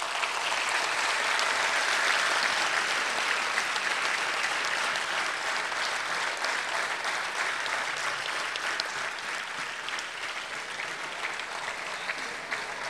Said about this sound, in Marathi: सरांसाठी प्लीज टाळ्या वाजवा